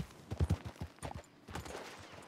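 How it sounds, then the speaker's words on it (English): Distant gunfire in the western video game Red Dead Redemption 2, a loose cluster of muffled, low booming shots in quick uneven succession, faint against the background. "I hear gunshots, bro."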